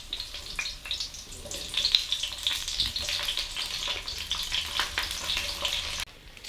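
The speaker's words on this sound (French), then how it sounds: "je vais faire frire les poivrons qui vont cuire très vite parce qu'ils sont très fins" Thin friggitelli peppers frying in olive oil in a wok, a constant bright sizzle with crackling spits and pops, close and fairly loud, cutting off abruptly near the end.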